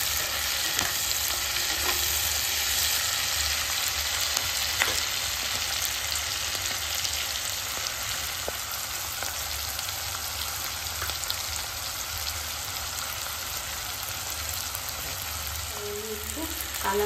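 Vegetables fry in a pan for chilli chicken, giving a steady, dense sizzle with occasional stirring clicks and scrapes, continuous and close, with no voices.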